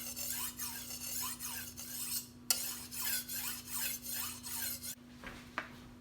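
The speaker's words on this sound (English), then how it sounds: "I just go back and forth on this steel sharpener that I have" A kitchen knife drawn back and forth on a steel sharpener, a steady run of quick rasping strokes in an even rhythm, close and fairly quiet over a constant electrical hum, with a brief pause in the middle.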